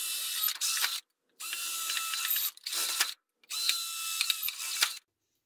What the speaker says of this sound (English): drill four holes so I can take the tin snips and cut the back of this Altoids tin out